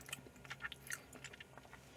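Close chewing and biting of Philadelphia cube cheesecake eaten with Seoul milk, a series of soft moist crunches and squishy bites over about two seconds, with no talking.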